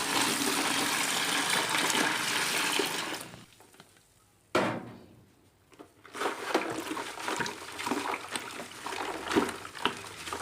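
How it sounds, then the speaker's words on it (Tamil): Water gushes loudly into a bucket holding caustic soda, pausing briefly before a second, slightly unsteady pour continues. "இப்போ தண்ணியை ஊற்றிக்கலாம்."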